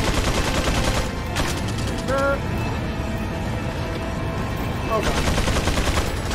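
Bursts of rapid gunfire crackle around a player under attack in the video game Resident Evil 4, dense and loud across most of the stretch, with a brief lull in the middle while a voice cries out over the shooting.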